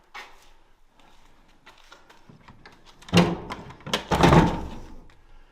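An old door in an abandoned Tudor mansion is forced open, giving a few scraping creaks and then two loud, close heavy thuds and rattles as it finally gives way, with no talking.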